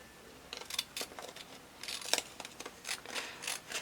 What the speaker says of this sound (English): And now we can just cut the armhole away,